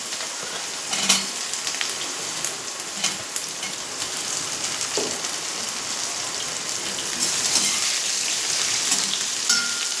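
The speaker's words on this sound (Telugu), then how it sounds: "బీరకాయలు అయితే లైట్గా పచ్చివాసన పోయేటంత వరకు ఆయిల్ అయితే ఇలా ఫ్రై చేద్దామండి." Chopped ridge gourd frying in oil in a pan, a steady close crackling sizzle with scattered pops and faint stirring touches throughout, growing slightly louder near the end, with no talk.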